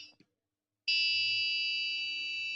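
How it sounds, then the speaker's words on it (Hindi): Active electronic buzzer on a test circuit giving a short chirp, then after a pause a loud, continuous piercing tone that holds steady to the end. "पैसिव की जगह एक्टिव ने काम कर दिया है, हालांकि कंटिन्यूस बीप की बजाय वो जरा सी उसकी फ्रीक्वेंसी को भी रिफ्लेक्ट कर रहा है"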